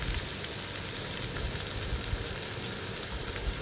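Onion and tomato sautéing in a pan, a close, even crackling sizzle that holds steady throughout.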